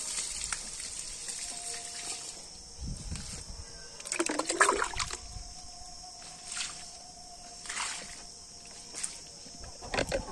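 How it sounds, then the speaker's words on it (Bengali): Water poured from a bucket onto a gourd seedling, heard as a short splashing gush about midway through a quiet outdoor scene, with faint background noise before and after. "এখন লাউ চারাটাতে জল দিয়ে দেবো।"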